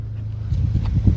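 A Volkswagen MK8 GTI in Atlantis Blue idles, its exhaust giving a close, steady low rumble with slight pulsing throughout.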